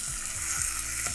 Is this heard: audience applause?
no